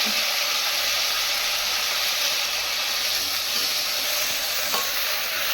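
Fenugreek leaves dropped into hot oil with onion for a chicken curry, giving a loud, dense, continuous sizzle and hiss that fills the whole stretch without pause.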